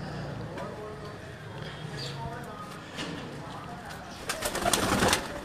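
Sialkoti pigeons coo softly in a loft, with faint scattered calls under steady background noise and some clattering and louder bursts toward the end.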